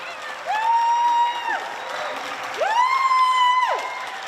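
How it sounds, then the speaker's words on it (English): Cheering at an outdoor rally against racism as a public health crisis: two long, rising whooping shouts, each about a second, ring out over a steady background murmur from the crowd. "please make sure you give her a rousing applause"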